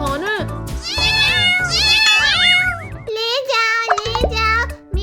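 Cartoon kittens meowing in a Hindi cat cartoon, a string of high, drawn-out, sliding meows, loud and close, some overlapping, with voiced character chatter between them.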